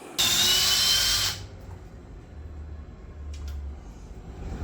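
An impact wrench fires one loud, close burst of about a second of high-pitched whirring, then cuts off, leaving a quiet room hum with faint low rumbling afterward.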